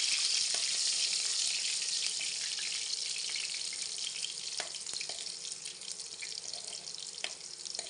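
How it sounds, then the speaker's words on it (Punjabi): Garlic sizzling in well-heated oil at the start of a homemade pea and potato tadka, a steady close hiss that holds for the whole stretch, broken only by a few faint clicks and stirring taps, with no voices. "ਇਹਦੇ ਵਿੱਚ ਹੁਣ ਆਪਾਂ ਲਸਣ ਐਡ ਕਰ ਦਿੰਨੇ ਆ ਲਸਣ ਨੂੰ ਆਪਾਂ ਹਲਕਾ ਜਿਹਾ ਬ੍ਰਾਊਨ ਹੁੰਦੇ ਤੱਕ ਪਕਾ ਲੈਣੇ"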